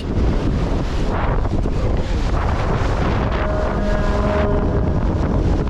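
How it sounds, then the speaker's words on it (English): Strong storm wind roars steadily across the microphone aboard a sailboat at sea, with waves and water rushing beneath a constant loud buffeting, no voices. "witnessed how powerful the wind was"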